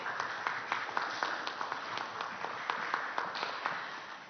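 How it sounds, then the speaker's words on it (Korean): Scattered applause from an audience at a startup busking award event fills the room, a soft steady patter of many hands with a few sharper claps, somewhat distant. "큰 박수로 환영해 주시기 바랍니다"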